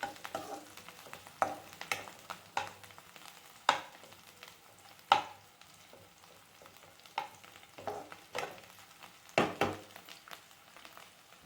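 Boiled potato sautés in a pan with a soft background sizzle, broken by irregular metal spoon scrapes and clinks as it is stirred.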